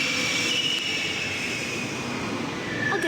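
Train in the video game The Longest Journey, a steady rumbling rail roar with thin squealing wheel tones running throughout, loud and continuous with no voices.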